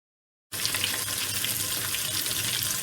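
Prawns dropped into hot oil for Japanese-style tempura, a sudden steady sizzle kicking in after a brief silence and holding loud and even.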